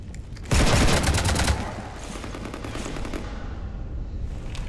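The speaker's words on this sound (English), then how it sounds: "That was an assault rifle you just fired at us" Assault rifle fire in the video game Mass Effect: a loud, rapid burst of automatic shots for about a second, followed by lower rumbling game ambience.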